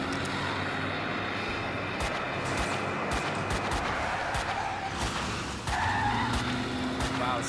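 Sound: car skidding while doing a wheelie in the video game Max Payne 2

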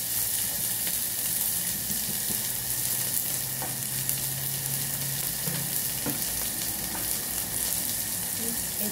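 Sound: spices frying in hot oil

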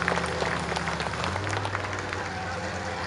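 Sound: audience applause at a motor race

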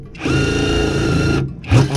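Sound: impact wrench with 19 mm socket on car brakes

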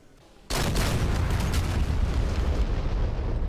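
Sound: bomb explosion in DCS Mirage 2000C flight simulator video game

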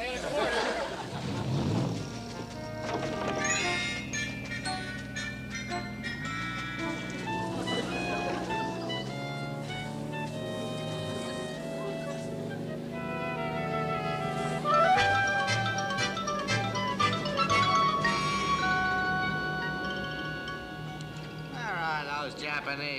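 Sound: navy boat engines starting and running

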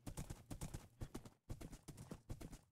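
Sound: horse hooves in the video game Minecraft

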